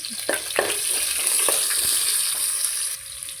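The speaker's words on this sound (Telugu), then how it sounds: "ఎండుమిరపకాయ, తెల్లగడ్డ, కరివేపాకు వేసుకొని వేగిన తర్వాత ఎర్రగడ్డలు వేసుకొని" Dried red chillies, garlic, curry leaves and onions fry in hot oil as a tempering for munakkaya pappu, with a loud steady sizzle and a few sharp stirring scrapes close by.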